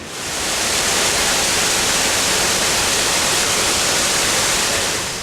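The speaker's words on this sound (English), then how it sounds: "just when you thought you've seen the most spectacular waterfall you've ever seen in your life" Waterfall at Ricketts Glen, Pennsylvania, a dense, continuous rushing roar of falling water that fills the whole stretch evenly, with no voices.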